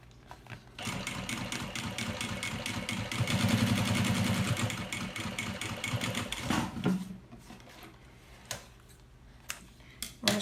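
A domestic sewing machine topstitching a seam on a small thermal bag, a steady fast whirring run of about six seconds that stops abruptly, followed by a few sparse clicks and handling noises.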